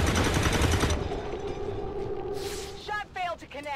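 Heavy automatic gunfire rattles loudly in XCOM 2, a dense burst of rapid shots that cuts off after about a second, followed by quieter game effects while someone talks.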